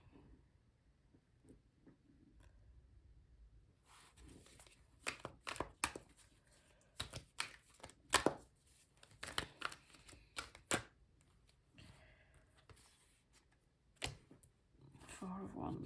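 Tarot cards being shuffled and handled by hand, giving a run of quick, sharp riffling snaps in the middle, then softer card taps and slides. Quiet, close and intermittent, with a faint voice at times.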